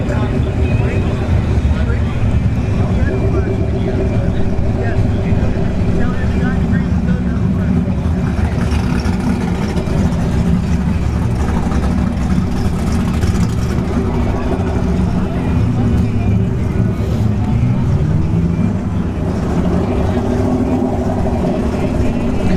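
Turbocharged New Edge and S197 Mustang drag cars racing at ShowTime Dragstrip during a street-style event: a continuous loud, dense engine roar that holds steady for over twenty seconds with crowd noise mixed in.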